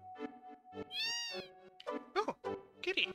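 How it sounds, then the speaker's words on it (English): A cat meows several times in Final Fantasy 7. The short, clear, close meows come in an irregular sequence, including one long, drawn-out cry, with no talk over them. "Oh, kitty."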